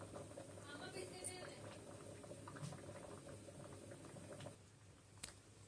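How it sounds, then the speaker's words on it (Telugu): About a kilo of rice boiling in a pot for pulihora prasadam, a soft, steady bubbling and patter heard up close and fairly faint throughout. "మరియు ఇక్కడ రైస్ ఉడుకుతుంది."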